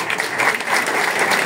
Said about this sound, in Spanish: también un aplauso para ellos